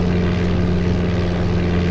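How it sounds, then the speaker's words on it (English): A Cessna propeller engine in Flight Simulator 95 drones loud and steady, with a constant low hum and a buzzing rumble running throughout and no voices. "the engine sound, the Cessna sound for Flight Simulator 5 and Flight Simulator 95 are close"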